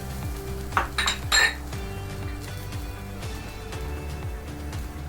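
Clinks and scrapes of a metal utensil against a cast iron pan as chopped ginger and garlic go in for a lamb keema curry, a few sharp knocks early on, then steady low hum beneath.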